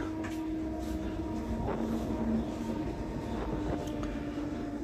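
A Mumbai local train pulls in at Reay Road station with a steady, loud rumble and rolling rail noise that fills the whole stretch, faint squeals riding on top and no talk.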